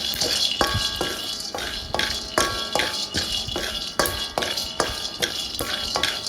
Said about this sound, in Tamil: கடாயை அடுப்பில் வச்சு அதில் வேர்க்கடலையை இப்போ நல்லா வாசம் வர வரைக்கும் வறுத்துக்கணும்